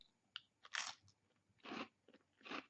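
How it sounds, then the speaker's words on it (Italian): Someone bites and chews a crunchy Tuk cracker. Four or five sharp, close crunches come in quick succession, quiet and alone with no talking. "Ho dato un morso a Tuk"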